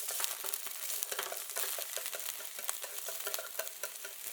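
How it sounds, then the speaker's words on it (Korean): Garlic chives and meat stir-fried in a pan, with steady high sizzling and frequent crisp scraping and tossing strokes from the utensil, close and fairly loud with no talking. "후부추의 뿌리부터 넣어서 볶아주세요."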